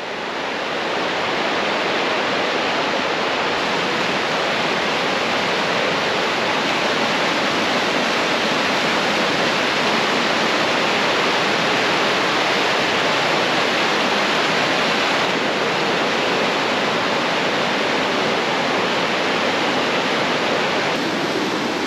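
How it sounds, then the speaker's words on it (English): A flowing stream with plenty of water, a steady, loud, unbroken rush of water close by with no voices. "it's a nice stream, plenty of water on it"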